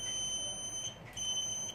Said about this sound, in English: you can just use multimeter. So you can select to the buzzer mode.